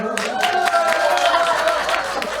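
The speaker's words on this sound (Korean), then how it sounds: "박수가 더 많이 나오는데" A crowd applauds a singer's performance with dense, steady clapping and some cheering over a reverberant room, sustained throughout.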